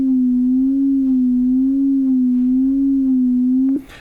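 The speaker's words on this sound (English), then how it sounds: "you can hear this modulator is changing the carrier's frequency slightly every second" A steady FM synth tone from a Yamaha Reface DX, the carrier gently wobbling in pitch once per second from a fixed 1 Hz modulator, loud and alone before cutting off abruptly near the end.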